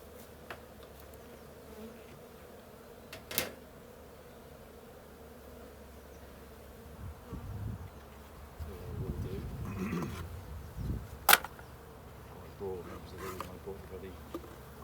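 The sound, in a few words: buzzing of Buckfast honey bees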